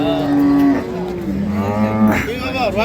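Dairy cows mooing loudly at a cattle market, several long low calls overlapping one after another, close by with a busy crowded background.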